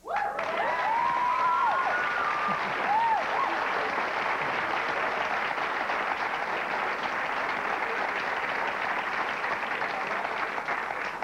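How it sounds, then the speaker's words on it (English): Studio audience at a 1996 talk show applauds warmly, a broad, even roar of many hands that holds steady throughout, with a few brief whoop-like voices rising near the start. "People are applauding because they think that's pretty good stuff to be"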